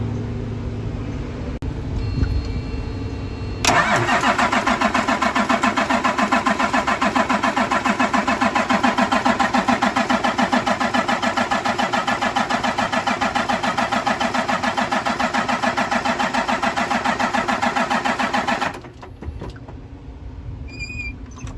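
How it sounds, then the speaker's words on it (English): A Cummins diesel engine (M11, N14 or L10) cranked to prime its fuel system: after a quiet start, a loud, even starter-driven churning runs for about fifteen seconds without the engine catching, then stops abruptly. "I'm going to give it a couple of cranks."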